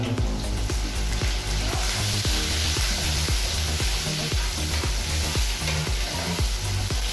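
Garlic and onion sautéing together in a pan for beef mechado, a loud steady sizzle close up with a rhythmic pulse of stirring running throughout, no talk.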